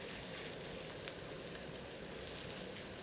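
Thai-style pork patties coated in toasted rice crumb frying over medium to high heat in a pan, a dense, steady crackling sizzle that holds evenly throughout without pause.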